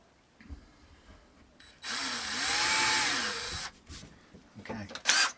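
A power drill whirs through a guitar body for about two seconds, a steady loud whine that rises slightly under load, with quieter handling clatter and brief bumps before and after.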